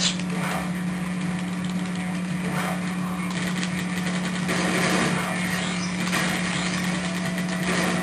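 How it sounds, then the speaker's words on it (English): A motorcycle engine in the Sonic Nextgen game gives a steady, high, buzzing drone, loud and constant throughout with slight swells, and no talking. "I should have gotten the other motorcycle!"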